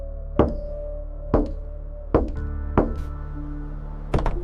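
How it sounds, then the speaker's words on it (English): Five heavy knocks on a wooden cabin door come in a loose, uneven rhythm, each a sharp thud that rings briefly in a quiet room. "before a knock came at the door."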